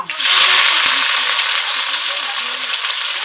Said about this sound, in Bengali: আমি আরেকটু সর্ষের তেল দিয়ে দিচ্ছি। 1 চামচ 5 ফোড়ন দিয়ে দিচ্ছি। পেঁয়াজ কুচি দিয়ে দেব।